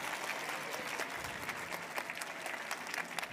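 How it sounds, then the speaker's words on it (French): An audience claps for a young reader at a departmental reading-contest final, a steady patter of many hands that stays fairly even and moderately distant throughout. "Regarde, ils t'applaudissent."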